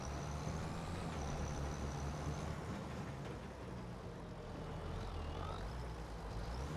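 A tractor in Farming Simulator 25 drives steadily, its low, droning diesel engine hum continuous and fairly faint, with a thin whining tone above it.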